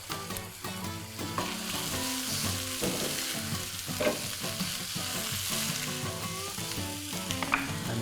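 Mushrooms and garlic fry in a pan for beef stroganoff, giving a steady, close sizzle with crackling pops throughout and no talk.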